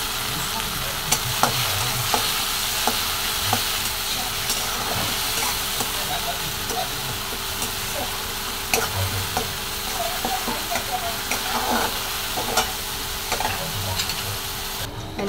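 Onion, tomato and garlic fry in a pan with a steady soft sizzle and occasional stirring clinks, close, with a voice speaking over it at times.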